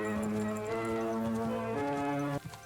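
Horse hooves clip-clopping steadily in Kingdom Come: Deliverance II, set against a sustained musical drone of layered tones that cuts off near the end.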